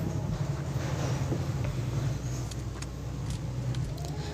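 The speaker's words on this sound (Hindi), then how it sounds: "अब इतने में ही यहाँ पे आ जाती है एक गाड़ी" A vehicle in the video game PUBG Mobile Lite drives past with a steady low engine drone and rumble, heard amid ongoing game noise and faint clicks.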